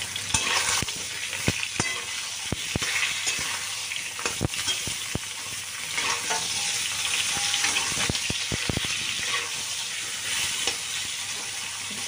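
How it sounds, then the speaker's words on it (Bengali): Ridge gourd added to potatoes frying in oil in a pan, with a constant sizzle beneath sharp, irregular clacks of a spatula scraping and stirring, close up and without talk. "তো এদিকে আলু ভাজা চলছে এখনও। মোটামুটি আলুটা ভাজা হয়ে গেছে। তো এর মধ্যে আমি ঝিঙাগুলো এখন দিয়ে দিলাম"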